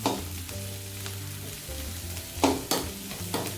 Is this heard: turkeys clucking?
no